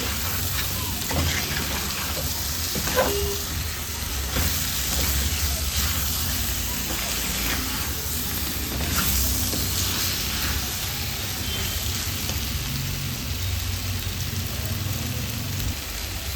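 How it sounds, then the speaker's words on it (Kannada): Brinjal frying in masala gives a steady, dense hiss and sizzle, like rain on a surface. It holds at an even level throughout with no talking. "ಒಂದು ಎರಡು ನಿಮಿಷ ಮಸಾಲೆಯಲ್ಲಿ ಈ ಬದನೆಕಾಯಿನ ಫ್ರೈ ಮಾಡಿ"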